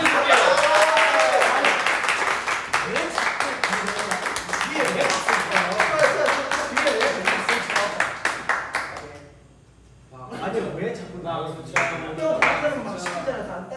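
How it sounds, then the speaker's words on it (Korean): A small group claps hands in a quick, steady rhythm at close range for several seconds, pauses briefly, then resumes with scattered claps, while people talk and laugh throughout. "자 박수로 쳐주실게요."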